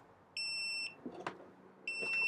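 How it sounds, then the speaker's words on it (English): Two bursts of high electronic error beeping from a temperature controller, each lasting about half a second, separated by a soft clatter of handling noise nearby. "it's already beeping at me"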